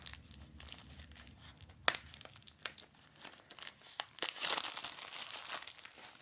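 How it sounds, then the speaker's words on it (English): Shrink wrap being torn along its seam from an ICZI 7-port USB-C hub box, close crinkling and crackling plastic in quick irregular bursts, fairly quiet overall. "And just tearing along the seam of the shrink wrapping."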